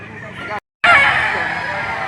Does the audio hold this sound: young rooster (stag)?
yes